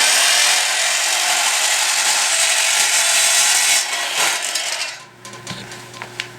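A power saw cuts through metal stock while a welding cart is built, a loud steady grinding rasp that runs for about four seconds before dropping away into a few scattered clanks and metallic taps.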